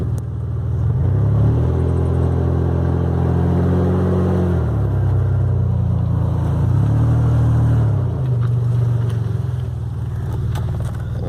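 A Toyota Tacoma pickup drives off-road in four-wheel drive, its engine rising and falling in two distinct revving surges with a steady rumble between them.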